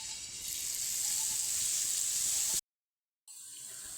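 Boondi batter sizzling in hot oil for a sweet-shop style bundiya, a steady bright hiss of frying that cuts out briefly before the quieter sizzle returns, close and without voices.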